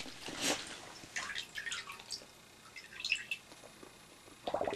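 Bubbles burble up as a dog blows into water, giving close, intermittent bubbling and dripping bursts with brief pauses and a stronger splash at the finish.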